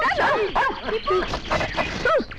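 Small dog yapping and whining close by in a 1985 Hindi children's film scene, a string of quick high barks and whimpers in a busy room.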